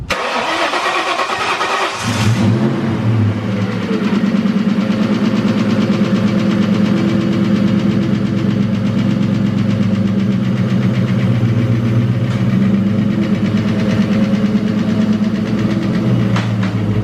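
A Drift Cobra engine cranks and fires up, then settles into a loud, steady idle with a persistent knocking running through it, and no voices are heard.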